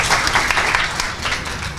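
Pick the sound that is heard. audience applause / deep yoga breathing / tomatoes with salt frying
audience applause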